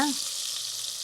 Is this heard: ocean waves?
no